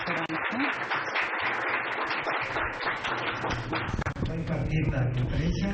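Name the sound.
audience applause for a conference speaker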